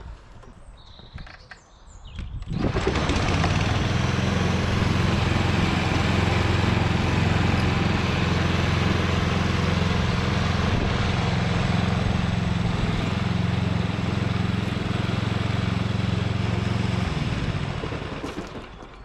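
A lawn scarifier starts up and runs over grass with its thatch-cutting blades, giving a loud, continuous mechanical roar and rattle that holds steady for about fifteen seconds before fading as it stops.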